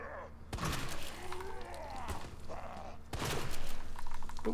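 Shotgun blasts in the video game Resident Evil 2, two heavy booming shots a few seconds apart with a decaying rumble after each, accompanied by a talking voice.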